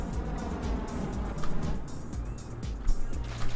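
Heavy hot rod car in the video game Trailmakers drifting, with a steady droning engine and rushing tire and wind noise that swells briefly, without speech.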